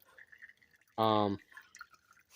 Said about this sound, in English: So I did just quickly remove the fuel line. I got it draining here into the bowl.